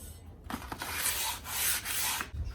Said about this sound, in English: Alright, it's all sanded a little bit.